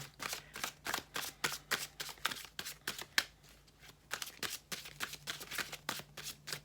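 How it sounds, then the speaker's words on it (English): Tarot cards riffled and shuffled over and over in a steady rhythmic flutter, close up, with a brief pause midway and no speech. "I'm going to shuffle and get everything in place here"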